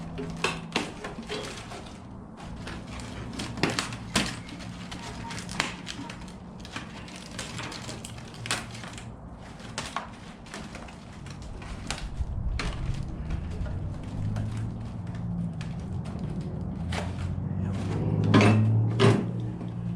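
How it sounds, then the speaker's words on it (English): Prying the door panel trim off a 1956 Chevy sedan door, with repeated sharp metallic clicks, taps and scrapes at close range, building into a heavier rattling clatter near the end. "I'm going to try to get this door panel trim off here."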